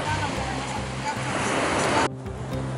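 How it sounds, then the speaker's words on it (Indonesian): A loud, steady rushing hiss of geothermal steam venting from boiling water on a volcanic beach, broad and close, cutting abruptly quieter near the end, with a voice faintly underneath. "Bisa sampai mengeluarkan uap seperti ini? Ini sangat mendidih"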